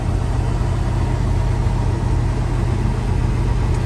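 A 2013 Peterbilt 386 truck runs with its engine cooling fan engaged, giving a loud, steady, close roar over a deep low rumble with no break and no voices.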